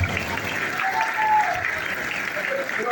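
Applause from an audience at an evening political gathering, a steady clapping wash lasting the whole stretch, with a voice speaking over it.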